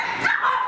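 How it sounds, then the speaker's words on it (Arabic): A black Pomeranian, kept among many animals in a home mini-zoo, gives a short, close, high-pitched yappy bark. "ودي انتايه البومرينيان"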